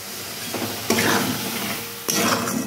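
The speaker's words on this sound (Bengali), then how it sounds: "একদম অল্প একটু জল দিয়ে দিলাম মশলাতে" A splash of water hits hot spice paste in a pan while potatoes cook for a spicy long-bean and potato curry. The sizzle flares loudly twice, with a steady frying hiss between.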